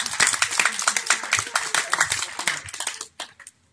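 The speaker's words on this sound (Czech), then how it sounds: "Tak a veliký potlesk." Lively clapping from a group at a school-entry ceremony for children, dense and close at first, then thinning out and stopping with a few last scattered claps.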